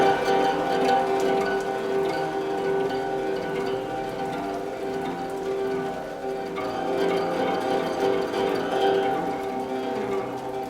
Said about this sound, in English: he listened to the rain